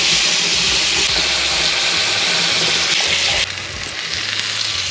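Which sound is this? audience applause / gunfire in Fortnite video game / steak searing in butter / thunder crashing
steak searing in butter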